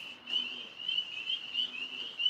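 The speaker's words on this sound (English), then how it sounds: "And just like that, the tree frogs start." Tree frogs calling outdoors in wet weather, a continuous high trilling chorus with pulsing peaks, faint and steady throughout.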